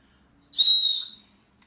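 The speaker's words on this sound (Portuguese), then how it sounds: "apito muito bom para sobrevivência" A survival whistle gives one short, shrill blast, close and loud, rising sharply and fading after about half a second against silence.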